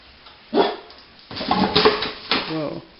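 A dog barks indoors, three sharp, separate bursts spaced across a few seconds, fairly close and loud against a quiet room.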